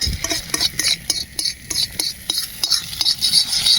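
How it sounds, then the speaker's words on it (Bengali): An egg fries in oil in a pan over a wood-fired clay stove at a campsite. The sizzle is close and steady, broken by quick rhythmic scrapes and clicks of a spatula. "ডিমটা ভেজে ফেললো"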